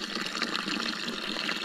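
Water runs steadily from a mountain fountain at an alpine hut in the Karwendel range, a continuous broadband splashing and gushing, close and fairly loud, with no voices.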